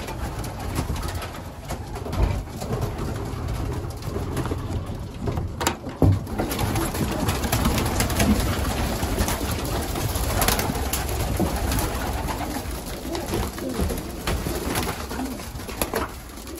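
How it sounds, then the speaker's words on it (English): Homing pigeons coo inside a loft, soft repeated throaty calls overlapping from several birds, close and steady with some rustling and shuffling around them. "We did also get a call for three more birds, which we got yesterday, and are already on the loft."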